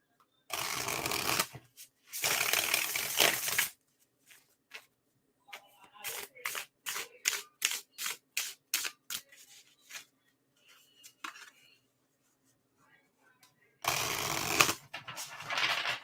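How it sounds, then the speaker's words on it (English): Tarot cards shuffled in bursts: two long riffling sweeps, then a run of about a dozen quick, crisp card snaps, a few scattered taps, and a final long shuffle, close and fairly quiet with no talking. "Focus on the shuffling of my cards instead."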